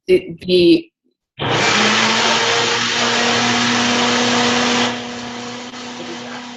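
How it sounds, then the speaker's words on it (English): A shop vac whirs with a loud, steady drone for about three seconds, then drops to a lower hum, after a brief burst of talk at the start. "Someone got a shop vac or something."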